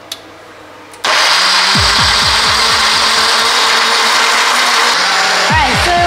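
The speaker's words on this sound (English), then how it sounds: "Now I'm using the blender." A kitchen blender starts abruptly and runs loud and steady, its motor roaring with a dense whir that shifts pitch slightly as it churns.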